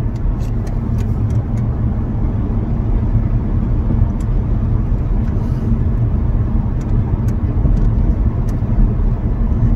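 A car with loose, shaking suspension rolls over a bumpy road, giving a steady loud rumble of road and body noise with faint rattly ticks scattered through and no talking.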